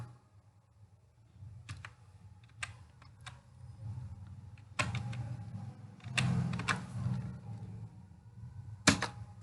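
Keys clack on a computer keyboard while entering data into Tally ERP.9 accounting software, in scattered bursts of close taps separated by short pauses, quiet but distinct, with no talking.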